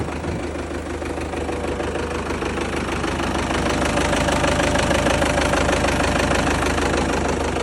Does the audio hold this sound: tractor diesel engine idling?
yes